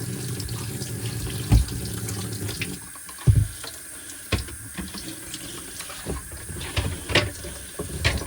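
Running tap water rinses the bin of a Shark NV501 vacuum, a continuous splashing stream with intermittent knocks and clunks of the plastic bin being handled in the sink.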